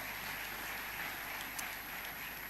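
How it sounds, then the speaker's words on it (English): Audience applause at the Africa Climate Summit 2023 in Kenya, a steady, dense wash of clapping from a large room that holds evenly throughout without any talk. "give the leadership, the people, all the different organizations in this room a round of applause"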